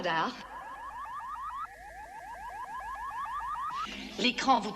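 An electronic intruder alarm wails in rising, repeated sweeping tones that run for several seconds, loud and near, with brief speech before and after it.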